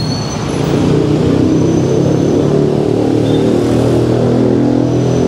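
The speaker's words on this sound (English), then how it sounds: "The one thing about Manila is the traffic jam here. Pretty heavy." A constant, loud rumble of engines and road noise from a Manila traffic jam, dense vehicles passing close by, with no voices.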